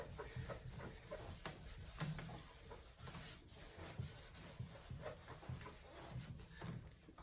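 Cleaner is rubbed by hand onto the stainless steel of a Ninja Foodi grill, a soft, close scrubbing swish repeating in quick strokes, faint and steady with no talk.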